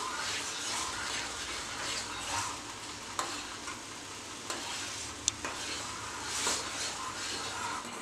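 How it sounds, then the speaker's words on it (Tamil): Flax seeds boiling in water in a pan and thickening into gel, stirred continuously, giving a steady close bubbling and scraping sound with a few sharp clicks of the utensil against the pan. "இப்போ தண்ணி நல்லா கொதிக்குது, கண்டினியூஸாக கிளறிக்கிட்டே இருங்க"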